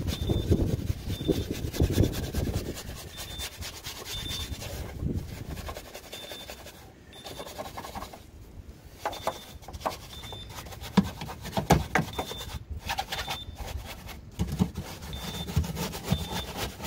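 Small detailing brush scrubbing into the nooks of a car wheel arch, a steady close rasping rub that continues in uneven strokes throughout, with brief pauses.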